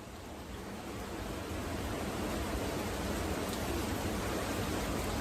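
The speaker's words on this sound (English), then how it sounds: "It's pouring, y'all. Absolutely pouring." Steady, dense heavy rain pouring down in a public park, a constant broadband hiss with no breaks or voices.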